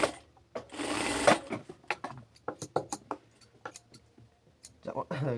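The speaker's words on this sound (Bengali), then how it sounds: "আপনারা সেমভাবে সামনের পাটের মতোই সেলাই করে আটকে নিন" A sewing machine stitches the neckline of a kameez in short, close bursts of rapid mechanical clatter, separated by pauses and small clicks as the fabric is adjusted.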